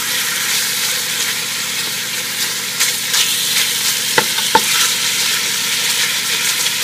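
Beef for carne guisada browns in a pot with a steady, loud sizzle, while a wooden spoon stirs it and scrapes the bottom in a couple of sharp knocks and clacks partway through.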